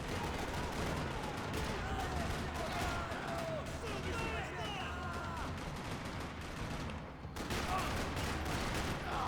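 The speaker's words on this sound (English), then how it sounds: "Another parking lot rattling with gunfire." Bursts of rapid gunfire rattle continuously in a parking lot in Max Payne 3, dense and loud, with a voice talking over the shooting.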